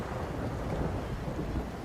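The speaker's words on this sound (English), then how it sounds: "Ooh, you hear the thunder?" A deep, continuous rumble of thunder rolls under a steady wash of rain in the video game Forza Horizon 5, loud and sustained throughout.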